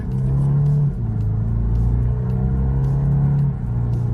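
A 2024 BMW 2 Series gives a loud, steady engine drone from inside the cabin as it accelerates, with the pitch dropping at a gear change and then building again.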